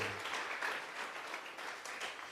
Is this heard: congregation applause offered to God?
yes